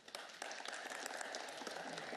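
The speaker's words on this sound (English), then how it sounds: "Well, applause for the safety," Faint, steady applause from a snooker audience at the Scottish Open semi-final after a safety shot, sounding distant and continuous throughout.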